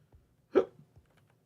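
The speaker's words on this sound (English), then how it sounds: "hiccup" A single close, abrupt hiccup pops out of near-silence, with faint small sounds around it.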